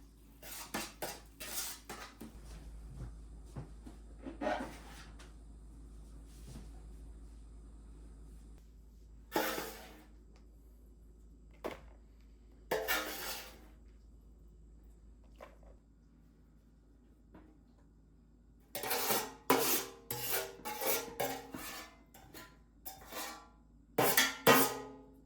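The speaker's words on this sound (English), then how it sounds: "So I've got the taco seasoning in with this burger, get it stirred up." Taco-seasoned burger meat stirred in a pan, with intermittent bursts of a utensil scraping and clanking against the pan separated by near-silent pauses.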